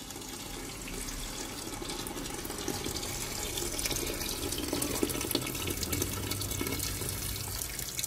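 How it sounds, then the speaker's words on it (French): Hot water pours steadily into a cooking pot while Moroccan couscous is being prepared, a close, continuous rushing and splashing stream that holds at an even level for about eight seconds with no talking. "Après, on met d'eau. Vous mettez de l'eau chaude"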